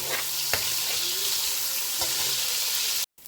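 Bacon sizzles crisply in a pan, a steady dense hiss with a couple of light clicks of a utensil, running evenly until it cuts off abruptly.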